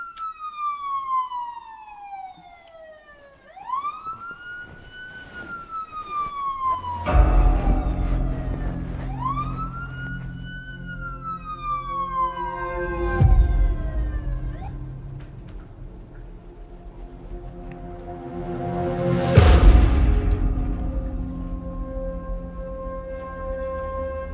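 Police car sirens wail outside a house, several loud rising and falling sweeps repeating over about twenty seconds, with engine rumble and no one talking.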